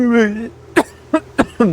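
A man clears his throat several times in short, sharp bursts after a brief stretch of his own voice, close and fairly loud.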